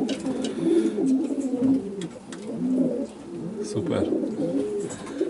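Racing pigeons in a loft, long-distance marathon birds, coo repeatedly in low throaty rolling phrases close by, with a man's brief word and a few light knocks mixed in.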